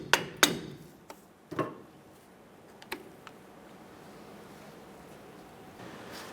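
A wheel bearing dust cap on a Chevy S10 is pried loose with a handful of sharp, close metallic taps and clicks in the first three seconds, then near silence with faint background hiss.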